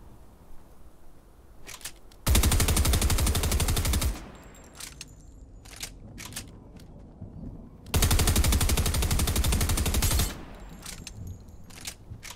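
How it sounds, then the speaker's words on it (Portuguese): Fortnite video game gunfire in two long, loud automatic bursts, each lasting about two seconds, separated by quieter gaps with a few scattered single shots and faint clicks. "Eu vou ter que atirar aqui."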